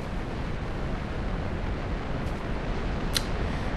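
A dense, continuous roaring rumble from a missile explosion in Minecraft's ICBM mod, loud and steady throughout, with a couple of brief sharp crackles near the end.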